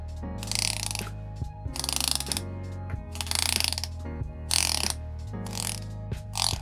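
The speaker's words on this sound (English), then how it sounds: "see which one has a better bezel action" Rapid ratcheting clicks in several bursts as a unidirectional dive watch bezel with a PVD DLC coating is turned in steps, fine toothed, close and crisp with pauses between turns.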